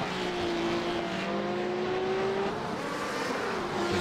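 A Porsche race car engine in the iRacing simulator at a Belle Isle parking lot track, a loud, sustained engine roar with revs rising and easing slightly, constant and close with no speech.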